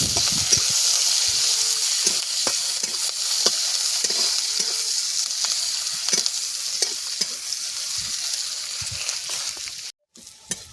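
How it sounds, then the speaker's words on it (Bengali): Onions frying in a pan over a village cooking fire give a steady close sizzle and hiss, with spoon stirring scrapes ticking through it, no talk, ending in a brief drop near the close. "পেঁয়াজটাকে একটু ভেজে নেব।"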